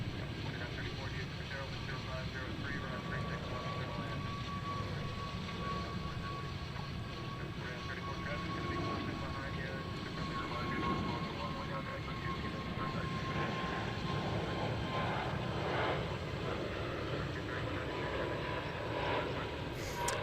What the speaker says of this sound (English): Frontiers A320 departing.